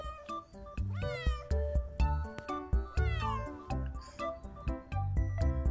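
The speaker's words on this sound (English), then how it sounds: "C for cat." Cartoon cat meows in a children's phonics alphabet song, several bright, sliding meows rising over bouncy music with steady drum beats, loud and upfront.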